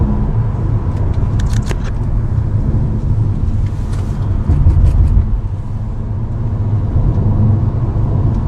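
2019 Honda HR-V Hybrid car driving through a corner, with loud road and engine rumble filling the cabin, a brief swell of power midway, and a few faint clicks, without speech.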